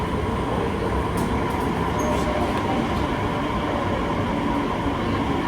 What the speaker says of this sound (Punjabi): ਆ ਗਈ ਆ ਸਾਡੀ ਵੀ ਟ੍ਰੇਨ